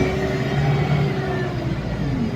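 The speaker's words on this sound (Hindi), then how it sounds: "बस से जा रहे, बस की भी आवाज़ सुनते होगा गाइस" Steady rumbling engine drone from inside a moving bus, a loud continuous hum with no breaks.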